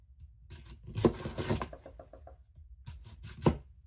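A knife slicing an onion on a board, a quick run of short rhythmic cutting strokes followed by a couple of firmer single chops, close and moderately quiet with no talk.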